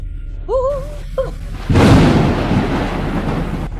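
Thunderstorm over Moscow with heavy rain and hurricane winds, a loud booming thunder crack rolling into a sustained roar of rain and wind after a short tonal sound at the start.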